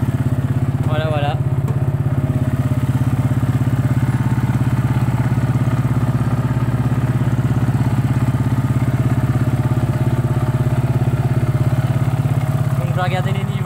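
The engine of a TGB Blade 550 quad runs steadily after starting, a loud, close, low throbbing idle that continues throughout, with brief faint sounds near the start and end.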